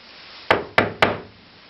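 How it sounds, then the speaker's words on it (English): Three sharp knocks on a door, evenly spaced and close, ring out against a quiet background. "So there was a knock on the door."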